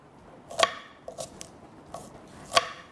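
Onions and green chillies are chopped in a food chopper, giving a handful of spaced, sharp, woody chopping knocks, close and fairly quiet with no talk.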